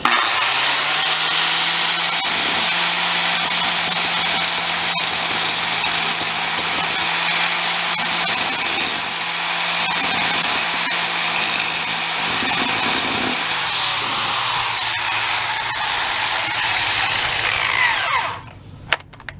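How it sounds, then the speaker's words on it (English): A power grinder works metal peaks on a tow bar retrofit, producing a continuous, loud, harsh grinding hiss with a steady hum that lasts nearly twenty seconds before cutting off. "so I can grind off these little peaks here."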